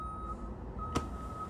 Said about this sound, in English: Oh, yeah, it's the garbage truck.